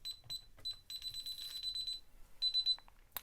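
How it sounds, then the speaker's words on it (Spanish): An alarm control panel beeps while being armed after a magnetic door contact is installed, giving a series of sharp, high electronic beeps in short rapid groups with brief pauses between them, close and fairly clear. "Ahora vamos a conectar la alarma."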